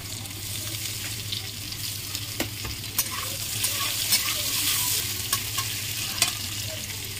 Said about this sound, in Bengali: ওদিকে আলু ভাজা হচ্ছে